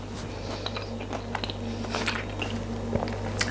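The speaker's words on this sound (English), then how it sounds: "That breadcrumb coating is so crunchy." Close crunching bites and chewing into a crisp breadcrumb-coated chicken cutlet, several crackly snaps scattered over a low steady hum.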